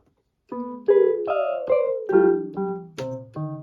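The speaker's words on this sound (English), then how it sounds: "Synth tom would be 70." After a short silence, a Yamaha PSS-380 keyboard's synth tom voice plays about eight pitched tom hits, each a quick attack with a downward-sliding tone, in a steady descending run, close and alone.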